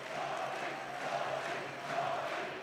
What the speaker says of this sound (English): Good grief, there's a huzzah in the background there